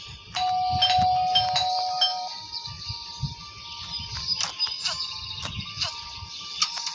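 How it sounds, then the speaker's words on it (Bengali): Doorbell chime ringing indoors, a clear ding-dong tone opening and sustaining for about two seconds, followed by faint ticking and background noise with no speech. "সবার আগে আমরা প্রথমে আমরা কলিং বেল দিব।"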